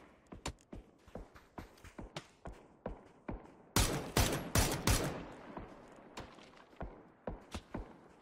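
Gunfire in PUBG cracks out in a rapid series of sharp single shots, with a dense burst of louder overlapping fire in the middle, close and without talk.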